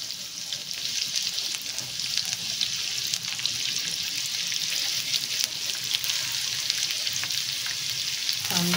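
Chopped onion frying in oil in a pan, a continuous close sizzle with light crackles and faint stirring, steady in level from start to finish with no talking.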